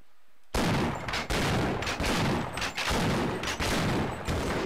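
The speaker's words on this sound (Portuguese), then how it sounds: "Tô atirando em você!" Rapid, continuous bursts of gunfire in the video game Half-Life rattle loudly and close, with brief gaps between volleys.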